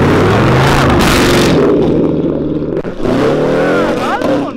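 A Chevrolet Camaro with straight-pipe exhaust roars loudly as it revs and pulls away, a harsh, rasping engine note rising and falling, with excited voices shouting over it nearby.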